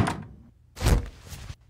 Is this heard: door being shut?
yes